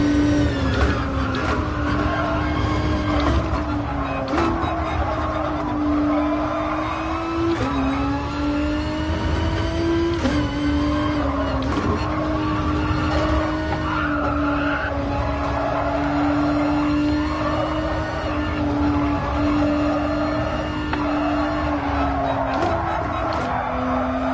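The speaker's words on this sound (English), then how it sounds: "Just that tyre squeal, I don't know how it's going for you guys, but it's so annoying" Steady high tyre squeal from a race car in Gran Turismo Sport at Suzuka, a sustained whine riding over continuous engine drone, shifting pitch through corners and lasting throughout, loud and persistent.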